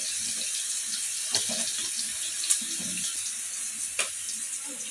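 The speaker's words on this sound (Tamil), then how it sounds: "ஒரு தடவை பாஸ்தா வாஷ் பண்ணிவிட்டு அது கூடவே தண்ணி சேர்த்து" Tap water runs steadily into a sink while pasta is washed in a home kitchen, a continuous close hiss with a few brief splashes and clinks.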